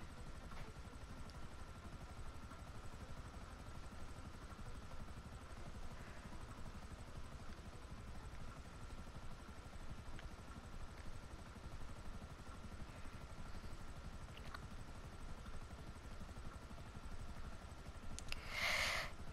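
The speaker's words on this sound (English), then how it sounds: "This helicopter's well cool." A video game helicopter's steady, throbbing rotor and engine drone in GTA 5 runs unbroken throughout at a moderate level, with a few faint clicks near the end.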